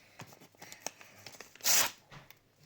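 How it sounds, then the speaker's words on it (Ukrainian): Soft handling rustles, then a sharp, loud tear as a paper packet is ripped open, followed by quieter crinkling. "Зараз я буду ось такий пакетик відкривати."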